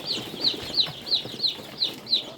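Broiler chickens in a coop cluck in a steady run of about eight short, bright calls, close and fairly loud with faint rustling between them.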